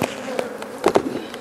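Agitated honeybees from a defensive hive buzz close around a beekeeper's veil, a near, droning hum with brief louder passes.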